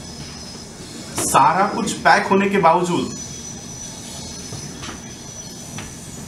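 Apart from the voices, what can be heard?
passing train on nearby railway line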